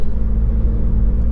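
A Ford Fiesta MK8 ST with a Scorpion exhaust idles nearby with a deep, steady low rumble, loud and continuous with no voices.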